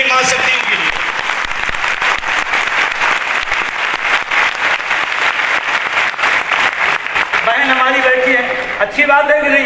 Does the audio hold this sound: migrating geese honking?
no